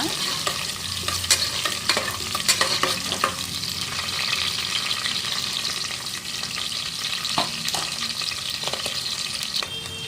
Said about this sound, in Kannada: ಈರುಳ್ಳಿ ಹಾಕೋಣ ಇವಾಗ ಒಂದು ಈರುಳ್ಳಿ ಬ್ರೌನ್ ಕಲರ್ ಬರುವವರೆಗೂ ಫ್ರೈ ಮಾಡ್ಕೊಳ್ಳೋಣ